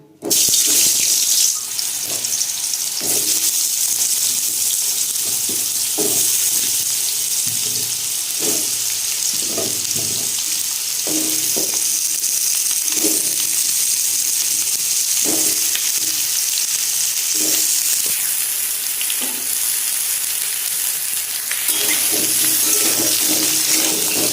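Potatoes fry in hot mustard oil in a wok, giving a steady, loud hiss of sizzling that runs throughout. Occasional soft clatters and stirring bumps rise above the constant crackle.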